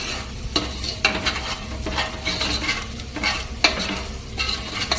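Meat with onion frying and sizzling in a pot while being stirred, a steady hiss with repeated scraping stir strokes, close and alone.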